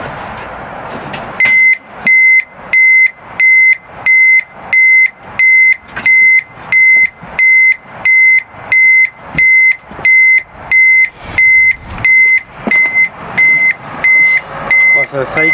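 Steady, loud reversing beeper on a vehicle, repeating in a regular on-off rhythm over an idling engine, with a burst of noise at the start.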